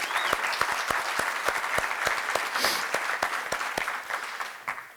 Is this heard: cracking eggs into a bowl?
no